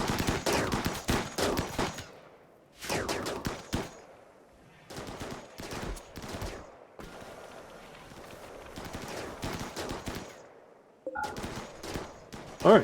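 Rapid bursts of automatic gunfire from a RimWorld colony firefight, loud clustered volleys broken by short pauses, repeating through the whole stretch.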